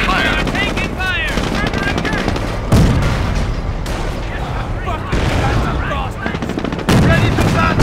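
Machine gun and rifle fire crackle across a World War II battlefield in the strategy game Company of Heroes: Opposing Fronts, a loud, dense stream of shots with occasional heavier booms and shouting voices over the top.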